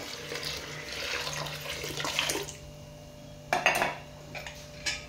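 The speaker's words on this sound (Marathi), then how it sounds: "आता यामध्ये पाणी ऍड करायचं आहे" Water splashes as it is poured into a pot of chopped spinach, dal and salt for a home-cooked recipe. A steady gush lasts a couple of seconds, followed by a few sharp metallic clinks of utensils.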